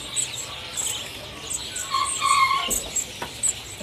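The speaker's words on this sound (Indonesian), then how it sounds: "Ini ada tersedia stok burung cucak ijo." A green leafbird caged at a bird market kiosk gives short chirps and whistled calls, moderately close, over a low background murmur.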